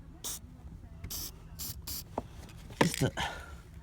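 Several short hissing bursts from an aerosol can sprayed onto a battery terminal of a 2008 Mercedes-Benz GL450, evenly spaced, followed by a few faint knocks and soft sounds nearby.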